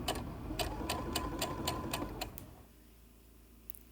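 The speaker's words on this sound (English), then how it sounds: "I sew all the way around till I get to the beginning of my quilt" A sewing machine stitches binding onto the edge of a baby quilt, a fast steady run of needle clicks for about two and a half seconds, close and moderately loud, then stopping into near quiet.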